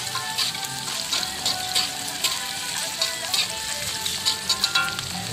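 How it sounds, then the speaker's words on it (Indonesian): Fried mackerel dropped into a hot pan sizzles and crackles steadily and loudly throughout, a dense frying hiss with small popping bursts and no talking. "kita akan masukkan ikan yang telah goreng tadi"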